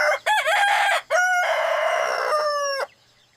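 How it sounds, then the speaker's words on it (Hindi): A rooster in a small village on a cool morning crows a loud, full cock-a-doodle-doo, a few clipped notes leading into a long drawn-out call, close and clear with no talking. "दूर से मुर्गे की बांग"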